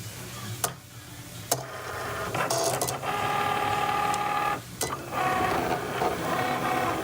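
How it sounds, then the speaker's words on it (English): A Cricut cutting machine slices a heat transfer vinyl monogram for kids' clothing, giving a close, whirring motor whine that shifts pitch as the carriage moves, broken by sharp clicks and brief pauses. "as you can see, it's cutting the monogram."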